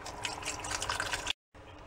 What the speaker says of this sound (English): I'm just adding the beef stock,